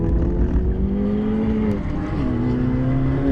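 Race car engine at full throttle on a hot lap at Sonoma Raceway, heard from inside the car as a loud, steady roar with pitch rising, dipping briefly at a shift, then climbing again.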